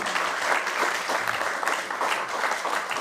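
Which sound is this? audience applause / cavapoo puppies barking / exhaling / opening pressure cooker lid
audience applause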